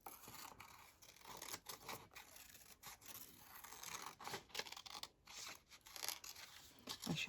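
Large scissors snip through paper for a craft collage, a close run of quick, irregular cuts and crisp rustling strokes with brief pauses between them.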